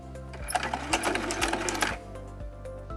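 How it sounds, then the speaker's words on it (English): A sewing machine back stitches a pocket onto a shoe bag: rapid mechanical needle chatter runs close and steady, with brief pauses and restarts as it reverses. "I wanna make sure to back stitch at the start and the stop of my stitches"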